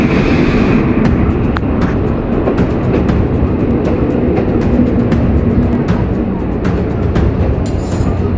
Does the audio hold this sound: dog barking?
no